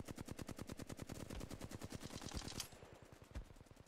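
Flatline rifle firing in Apex Legends, a rapid fully automatic stream of evenly spaced shots, loud and close, stopping for a brief break before one more shot near the end, with no talking.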